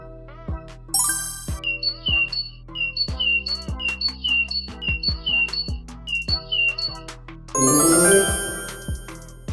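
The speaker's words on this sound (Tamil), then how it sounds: "சிட்டுக்குருவி," Sparrow chirping in a children's animal-sounds segment: a steady series of short, bright chirps repeats over a soft jingling backdrop, and a shimmering chime swells near the end.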